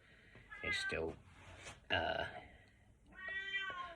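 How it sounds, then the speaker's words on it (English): A house cat meows several times close by, drawn-out harmonic cries between quieter stretches, with a voice talking around them. "Excuse the cat."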